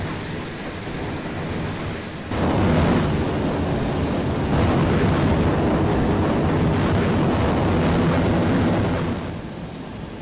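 An A-10 Warthog attack jet flying in a video game, a loud continuous engine roar that swells sharply after a couple of seconds, holds steady, then eases off near the end, with no talking.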